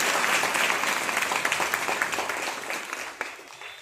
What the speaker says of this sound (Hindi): आप सबके लिए तालियां बजाओ।